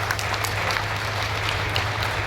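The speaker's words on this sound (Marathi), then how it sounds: "मराठा सेवा संघाच्या सर्व आयोजकांचे टाळ्या वाजून आपण अभिनंदन करूया" An audience claps together at a Maratha Seva Sangh gathering in dense, steady applause that stays even throughout, with no voice over it.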